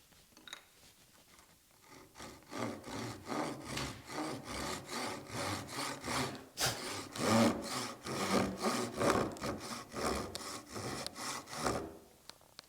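A hand saw cuts a wooden half-lap dovetail joint with a steady back-and-forth rhythm of about two dozen close, rasping strokes that grow louder midway, with no talking.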